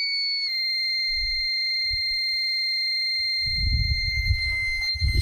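A handheld leak detector beeps right after being switched on, a steady high-pitched electronic tone sounding continuously and close, with brief low rustles of handling and fumbling midway and toward the end.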